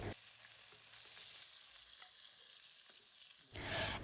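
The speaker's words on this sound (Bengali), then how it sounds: "কিছুক্ষণ পর পটলগুলি এপাশ ওপাশ করে ভেজে তুলে নেব" Pointed gourd (potol) pieces fry in hot oil under a lid, giving a steady, even sizzle that grows louder near the end; no voices.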